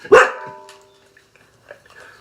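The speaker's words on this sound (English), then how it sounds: "But the dog's barking, and somebody's coming" A single loud, close dog bark at the start, followed by quieter rustling and faint background noise.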